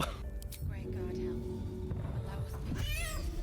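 A cat meows in Baldur's Gate 3, a few short mews heard under and between continuous talking from players.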